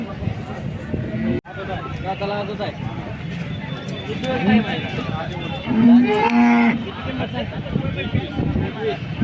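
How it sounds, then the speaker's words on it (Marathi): Several cows moo loudly amid a busy crowd at a cattle market in Sangola, with people talking throughout and a couple of long, deep lows standing out near the middle. "बघा या आठ गाई आहेत"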